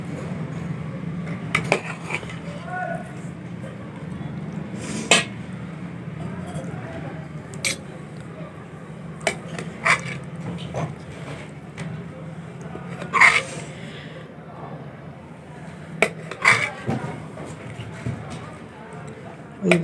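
Cooked green beans and potatoes with whole chilies are scooped and dished out of a pan, giving scattered scrapes and soft clinks of a utensil over a steady background, with a voice talking throughout.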